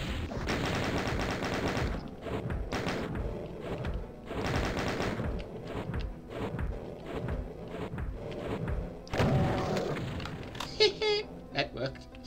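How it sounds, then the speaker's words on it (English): Rapid chain gun fire from Doom 2 comes in long dense bursts with short gaps, loud and close, and some game clicks and effects near the end. "I poke you with a chain gun."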